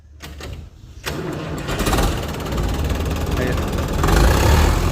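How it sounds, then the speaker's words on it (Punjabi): An HMT 6522 tractor diesel engine cranks with a few sharp bursts, catches around the first second, then runs with a loud, steady rumbling idle that builds slightly toward the end, with voices partly over it. "ਇੱਕ ਵਾਰੀ ਮਾੜਾ ਸਟਾਰਟ ਕਰਕੇ ਇਹਦੀ ਆਵਾਜ਼ ਸੁਣਾ ਦਿਓ"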